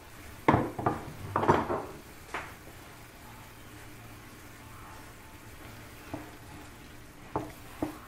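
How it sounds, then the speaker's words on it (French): Tomatoes and garlic go into a pan of frying peppers, producing a few sharp clatters of utensils against the pan, then a quiet sizzle with occasional light knocks, close and with no talking. "je vais rajouter mes tomates et mon ail."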